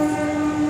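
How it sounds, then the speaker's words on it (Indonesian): A train passes close by near a station, its steady loud rumble and sustained horn-like tones filling the whole moment without any talk. "kereta. Kereta lewat."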